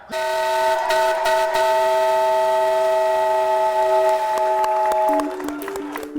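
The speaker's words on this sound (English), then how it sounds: "After the whistle blows, the teams immediately get to work." A long, loud, steady whistle blast starting a timed build competition sounds for several seconds, then slides lower and fades out.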